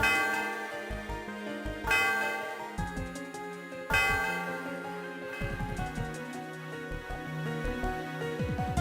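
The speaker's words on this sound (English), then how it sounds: "The sound of the bell reverberates through the area." The bell atop the Celestial Tower in Pokemon Black and White tolls in clear, resonant strikes roughly every two seconds, each ringing on with a shimmering synthesized game-music decay.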